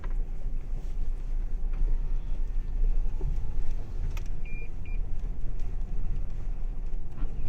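A Toyota Hilux drives off-road: a steady low engine and tyre rumble runs throughout, with faint rattles and a couple of brief high squeaks near the middle.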